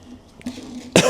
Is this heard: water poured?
no